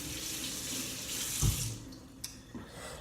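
Tap water running into a sink while hands are washed in a kitchen, a steady close hiss with a brief splashy surge midway and a few small clinks, with no talking.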